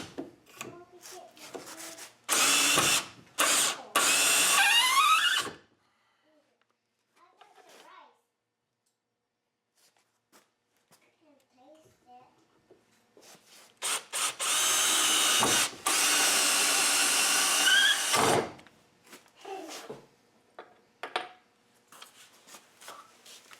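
A power drill drives 2.5-inch wood screws while an Irwin wood vise is mounted, in loud whirring bursts that rise in pitch and then stop, with quiet gaps and some speech between them.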